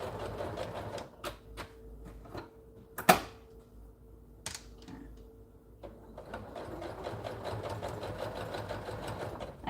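A sewing machine stitches in short bursts, its rapid mechanical whirring starting and stopping with brief clicks and a sharp knock between runs, then settling into a longer steady run close by.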